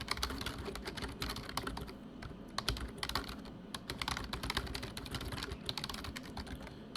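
Rapid, continuous typing on a computer keyboard, dense clattering keystrokes close up at steady volume with no talking.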